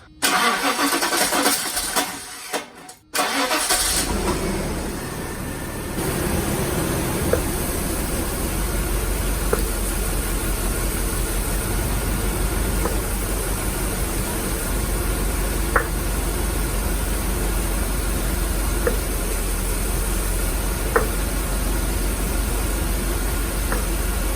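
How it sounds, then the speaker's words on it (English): A Mercedes SL500 engine cranks and fires, then settles into a rough, steady idle with misfiring cylinders, a loud continuous drone close by with occasional faint ticks. "I'm gonna be testing to see which cylinders are misfiring"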